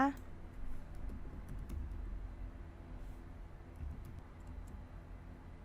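Sparse, faint keyboard taps while text is typed into a web sign-up form, scattered clicks sitting over a steady low background hum.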